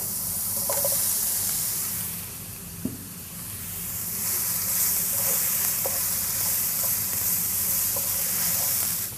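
Steamed jackfruit and chopped onion sizzle steadily in a hot pan, a continuous close frying hiss with a few soft stirring clicks and one sharper knock partway through.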